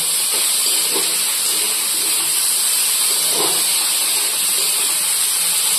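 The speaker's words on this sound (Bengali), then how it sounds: "ঢ্যাঁড়সটা এবার একটুখানি হালকা করে ভেজে নেবো" Okra, already half-boiled, fries lightly in a little oil, giving a loud, steady close hiss and sizzle that carries on unbroken throughout.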